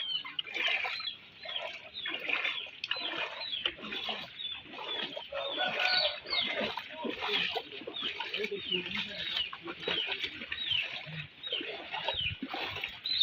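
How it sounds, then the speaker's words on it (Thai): Chickens clucking and calling in a flooded area of southern Laos, a busy overlapping chorus of fowl close by, mixed with people talking throughout. "ส่วนไก่ก็วิ่งวนอยู่พี่น้องแต่หน่อยตกน้ำ"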